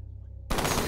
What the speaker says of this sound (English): Oh, it's an automatic sniper rifle, too.